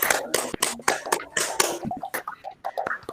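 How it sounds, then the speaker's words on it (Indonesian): A small group applauds after a class presentation by group 1, close and scattered claps in an uneven patter that lasts a few seconds. "Oke, kita aplaus dulu buat kelompok 1."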